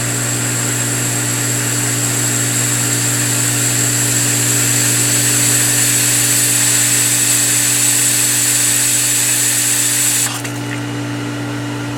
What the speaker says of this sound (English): Let's start the pump up and see.